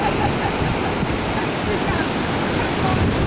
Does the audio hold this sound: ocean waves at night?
yes